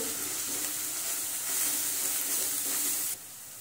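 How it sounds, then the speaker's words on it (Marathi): Spices with red chili powder sauté in a hot pan, a steady hiss of frying that stays close and fairly faint, then drops away sharply near the end. "सर्व मसाले आपण परतून घेऊ"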